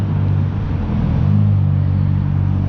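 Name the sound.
Mitsubishi Lancer Evo Wagon car driving past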